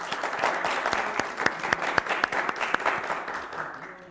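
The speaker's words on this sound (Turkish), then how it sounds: "Bir alkış alın" Studio audience on a Turkish talk show bursts into applause, a dense wash of clapping with a few sharper individual claps standing out, swelling and then fading away toward the end.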